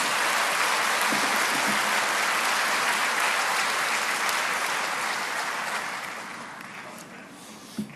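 A church congregation at a late-night Holy Week service applauds to welcome a 73-year-old elder pastor, a dense, steady wash of clapping that fills most of the clip before gradually thinning toward the end.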